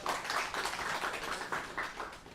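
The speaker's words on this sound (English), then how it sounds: "Give him a round of applause." A blockchain meetup audience gives a round of applause, brisk overlapping hand claps forming a steady moderate patter for a couple of seconds.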